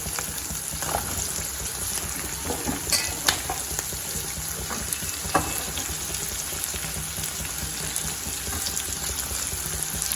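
Ivy gourd and green chillies frying in oil in a pan make a continuous close sizzle, with occasional sharp clinks and scrapes of a spoon stirring, steady in level and free of talk.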